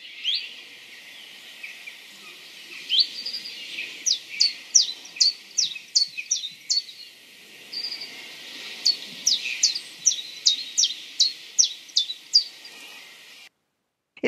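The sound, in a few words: chiffchaff singing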